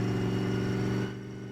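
Chevy-powered Mopar car engine running steadily, a loud, even droning rumble close by that eases slightly in level toward the end.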